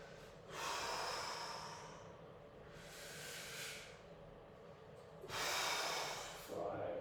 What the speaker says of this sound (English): breathing in and then breathing out